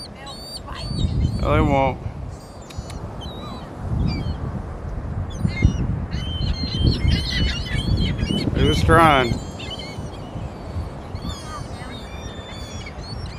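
Sea birds squawking and calling nearby, harsh repeated cries rising over people talking and laughing close by, with two louder bursts of rapid squawks.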